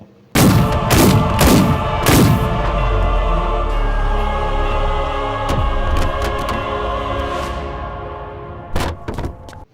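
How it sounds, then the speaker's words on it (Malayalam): Several loud gunshots crack in quick succession in a film scene, followed by a long dense rumble of noise and a couple of later bangs, with no talk. "അതിന് പ്രതികാരമായി ദേവൻ അലൂഷ്യയെ വെടിവെച്ചു കൊന്നു"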